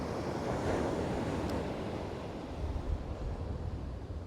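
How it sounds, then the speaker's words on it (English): Large rolling waves breaking on the Holderness coast at Withernsea, a continuous broad roar of surf with wind buffeting the microphone, no voices. "The waves are quite big though, them rollers."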